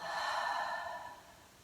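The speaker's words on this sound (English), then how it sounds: "deep breath in through your nose and exhale." One soft breath drawn in through the nose and let out again as a sigh, close and quiet, during a gentle morning yoga session.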